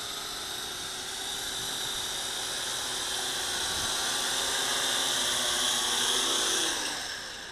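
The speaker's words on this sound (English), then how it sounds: "let's bring her in for a landing" A Syma X8C quadcopter drone with brushed motors whines loudly and steadily as it flies in to land outdoors, its high buzzing pitch shifting slightly as it nears and then trailing off at the end.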